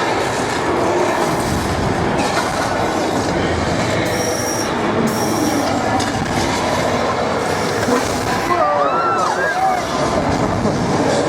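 A constant rumble of a Universal Studios Hollywood studio tour tram rolling along with rattling wheels and occasional high squeals, loud and close, with voices faintly mixed in.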